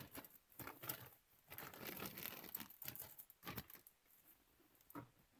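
A plastic bag of parts for a Revell 1/24 scale Land Rover Defender Series III model kit is handled and torn open, with close crinkling and rustling in irregular bursts and brief pauses.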